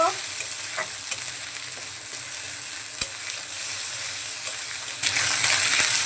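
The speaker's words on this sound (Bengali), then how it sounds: "বাটা মশলাটাকে হালকা একটু ভেজে নেব" Steady sizzling of garlic, ginger and cumin paste frying in a pan, with occasional scraping and stirring clicks, a brighter burst of sizzle near the end, no voices.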